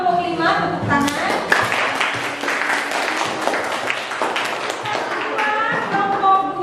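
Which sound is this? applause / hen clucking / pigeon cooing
applause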